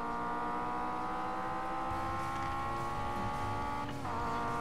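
A car engine in the Need For Speed Payback racing video game drones steadily under hard acceleration, with a sustained close rev and a brief dip near the end as it shifts up.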